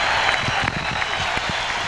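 Baseball crowd at Fenway Park in Boston during a 1995 Yankees game, cheering and clapping in a sustained roar with a few louder claps standing out.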